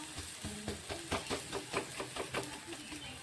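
A vegetable egg omelette fries in a pan with a low, even sizzle, overlaid by a regular series of soft tapping or scraping strokes, moderately quiet and without talk.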